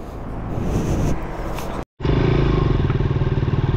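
A motorcycle engine revs up loudly and pulls away after its tube has been replaced at a roadside puncture repair on a Ladakh ride, dropping out for a moment before returning as a steady pulsing throb.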